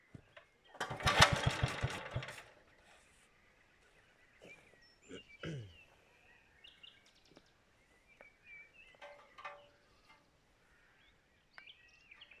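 A small engine with a freshly changed spark plug being pulled over, giving a loud burst of rapid chugging that dies after about a second, followed by scattered clicks and knocks and faint birdsong outdoors.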